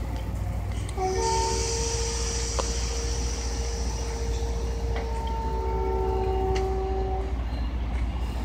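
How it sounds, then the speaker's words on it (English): A westbound MBTA commuter train bound for Worcester rumbles past in Ashland, Massachusetts, with steady low mechanical noise, sustained tonal squeals from the wheels and brakes, and a couple of sharp clanks along the way. "Here goes the train to Worcester."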